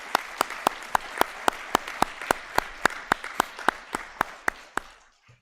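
Slow, rhythmic clapping at a middle school end-of-year assembly honoring award winners, about twenty evenly spaced sharp claps, close and distinct, tapering off after five seconds.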